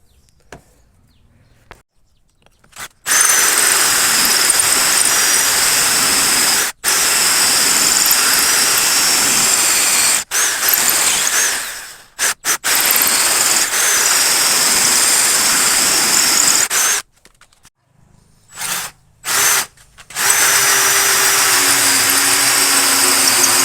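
A Dewalt drill with a hole saw bores through hardwood for a door knob: loud, sustained grinding runs, broken by several abrupt stops and short restarts near the end, with no voices.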